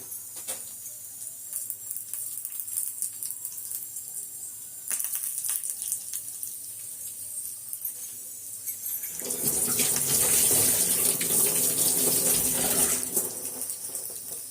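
Running tap water rinsing a bunch of curry leaves under the faucet, a continuous close splashing gush that swells louder and fuller for the last few seconds as the leaves are moved under the stream; no speech.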